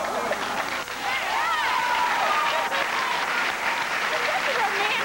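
Studio audience at a daytime talk show applauds steadily and loudly, with scattered whoops and voices rising above the dense clapping.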